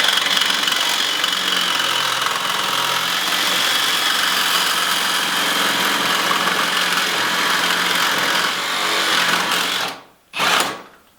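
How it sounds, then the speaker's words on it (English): A power tool whirs steadily and loudly as it cuts through an axle clamped in a vise, the grinding drone holding for about ten seconds before cutting off, followed by one brief final burst. "now basically you're just going to pull the trigger and we're going to cut the axle"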